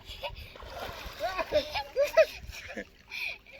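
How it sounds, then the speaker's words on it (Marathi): A person dives into river water at the Godavari, a few distinct splashes and sloshes among friends, with voices talking and calling out around the water. "फायनल गेलाय त्याने उडी मारली सूर."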